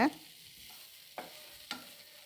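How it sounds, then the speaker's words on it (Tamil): Dried anchovy (nethili karuvadu) thokku sizzles softly in a pan over low heat, and a utensil stirs it in two quick scraping strokes above a quiet frying hiss. "ஒரு ரெண்டு செகண்டுக்கு ஒரு தடவை கலரி விட்டுக்கிட்டே இருக்கணும்"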